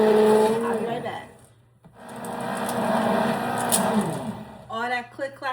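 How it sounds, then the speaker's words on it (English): A cheap handheld emulsion blender whirs with a rattling click-clack while blending, loud and close, dropping out briefly near the middle before starting again, with a person talking over it toward the end. "All that click clacking is because this is a cheap ass blender."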